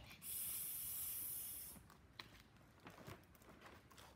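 A person imitates a snake with a long, steady hiss lasting over a second, followed by quieter rustling and shuffling noises.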